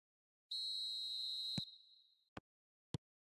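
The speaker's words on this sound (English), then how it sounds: "And the half-time whistle goes." A referee's shrill, sustained whistle blast marks half-time in the eFootball 2025 football game, fading out afterward, followed by two short sharp clicks.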